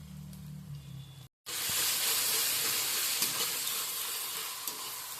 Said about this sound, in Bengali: এবার দিয়ে দেব আদা ও রসুনের পেস্ট দিয়ে দিলাম আদা রসুনের পেস্ট